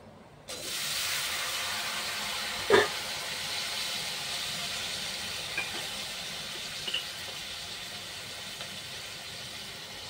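Jackfruit pieces fry in a pan with already-browned onions, giving a steady broadband sizzle and hiss that starts abruptly after half a second and holds throughout, with a few faint clicks and no talking.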